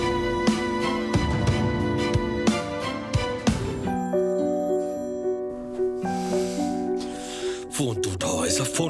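A telephone rings in a tense domestic drama scene, its repeated bright tones sounding over a sustained musical score.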